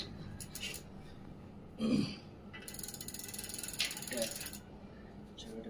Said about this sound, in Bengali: ইজিলি ফোল্ড, একদম ইজিলি এটা ফোল্ড করে দিবেন, এই হয়ে গেল ফোল্ড।